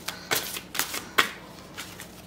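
Tarot cards that stick together are shuffled by hand, giving several short riffling bursts, fairly close and moderately loud, with quiet gaps between them.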